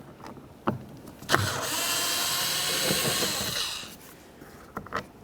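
A power driver's motor whirs steadily for about two seconds, taking a T25 screw out of the door handle area of a 2007-2012 Dodge Caliber, close up, with a few clicks and taps before and after.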